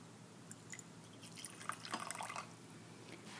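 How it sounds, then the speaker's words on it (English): Hot water poured out of a flask during a pressure and temperature lab, a faint splashing trickle that builds over a couple of seconds and then tapers off, quiet and close. "I'm going to pour out a little bit of my hot water."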